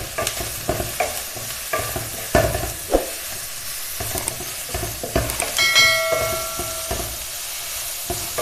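Sliced onion with a teaspoon of salt sautéing in a pan for a Kerala-style chicken thoran, with steady close sizzling and repeated scraping stirs of the spatula, louder bursts of frying near the end.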